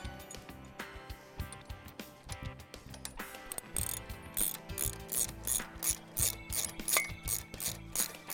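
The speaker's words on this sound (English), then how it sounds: "and then we'll tighten everything down" A ratchet wrench tightens bolts and nuts while a mount is being fastened down, a steady run of dense ticking pawl clicks in quick bursts, close and loud, with no talking.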